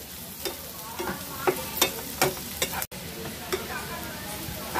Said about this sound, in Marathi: आता आपण कांदा चांगला परतून घेऊयात।